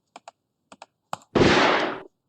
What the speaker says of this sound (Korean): 사물에서 총소리.